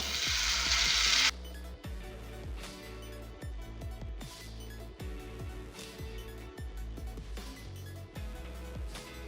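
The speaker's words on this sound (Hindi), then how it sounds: "अब हम इसमें नूडल आमलेट का बैटर डालते हैं।" Noodle omelette batter poured into hot oil in a pan gives a loud hissing sizzle for about a second, which stops abruptly as background music takes over.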